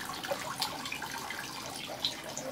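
Water runs steadily in a luxury salon during a head spa treatment, a soft continuous splashing and hiss with occasional brief drips, close and fairly quiet with no talk.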